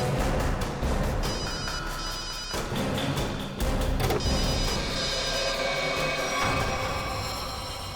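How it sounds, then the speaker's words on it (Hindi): A mobile phone rings amid a search scene in a crime drama, a continuous loud electronic ringtone with repeating tonal patterns running through the whole stretch, no speech over it. "रिंग तो बज रही है।"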